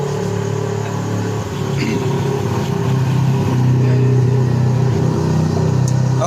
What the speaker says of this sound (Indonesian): Sebentar, ada suara motor.